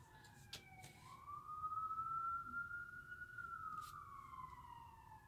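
Distant emergency siren wailing in one long rising and falling sweep, faint over low traffic rumble.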